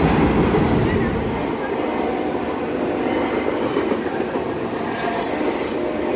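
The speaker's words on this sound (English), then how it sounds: "I hear a train." A train of graffiti-covered freight cars rolls past at Harpers Ferry, a loud, close rumble with wheel squeal and steady rail clatter that fades slightly before a brief high screech near the end.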